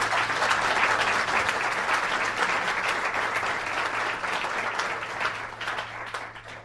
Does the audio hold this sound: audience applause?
yes